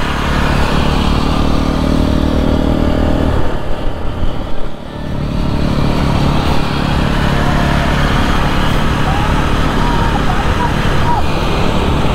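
A new-model Jawa motorcycle is ridden along a smooth road in North Bengal's Terai region, its engine a continuous loud rumble mixed with wind noise, dipping briefly midway before resuming steadily.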